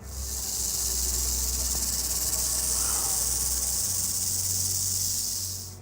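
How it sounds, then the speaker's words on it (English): A rattlesnake gives a loud, steady, high-pitched rattling buzz that keeps going without a break, heard close up over a low background rumble. "With its intense buzzing sounds, the rattlesnake was generating a sense of fear in its surroundings."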